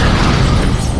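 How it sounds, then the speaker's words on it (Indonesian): A loud, sustained explosion roar in a film scene, broadband rumble filling the whole moment without pause, no voices. "Tiba-tiba tempat itu meledak dan Denity berusaha kabur dengan anaknya"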